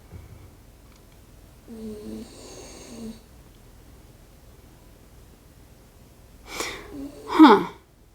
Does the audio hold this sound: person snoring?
yes